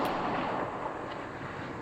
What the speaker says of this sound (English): Oh, that gunshot